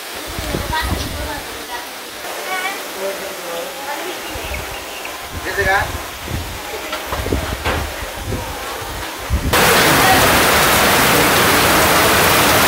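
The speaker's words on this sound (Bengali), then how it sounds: "এই যে বৃষ্টি নেমে গেছে।" Rain falls at a village home during cooking. Voices talk over a low patter at first, then a loud, steady broadband downpour hiss takes over for the last few seconds.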